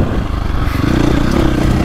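A 2024.5 KTM 450 Factory Edition dirt bike engine hums and revs loudly and steadily up close, with a gritty mechanical clatter under the exhaust note and no talking.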